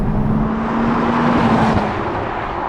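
A 2021 Honda Civic Type R Limited Edition cruising over a bumpy road, heard from the cabin as a loud, steady road roar with a low engine hum throughout.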